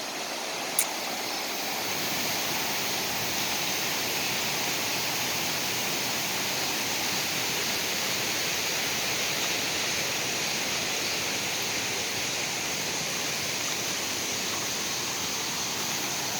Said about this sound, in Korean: 이게 무슨 계곡물이 폭포, 폭포 흐르는 소리 같아